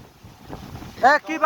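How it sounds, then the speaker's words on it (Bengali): Strong gusting wind during a rainless storm outdoors roars and buffets the microphone as a steady low rush, with a voice briefly rising over it near the end. "কি পরিমাণ বাতাস।"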